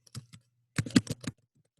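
Typing on a computer keyboard, a short quiet cluster of key clicks, then a quicker run of five or six taps, close and alone.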